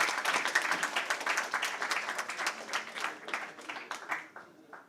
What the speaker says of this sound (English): big round of applause to the faculty members who did